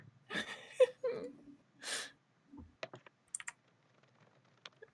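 Light keyboard typing in short bursts of clicks, near and fairly quiet, with brief breathy vocal sounds early on.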